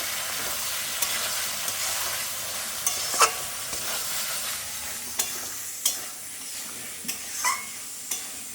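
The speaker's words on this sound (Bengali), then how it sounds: "ঢাকনাটা তুলে নেড়ে নেব" A watermelon rind curry is stirred in a pan over gentle frying heat, a soft continuous sizzle broken by scattered spoon scrapes and clinks against the pan.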